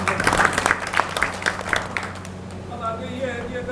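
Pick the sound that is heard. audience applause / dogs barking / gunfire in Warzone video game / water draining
audience applause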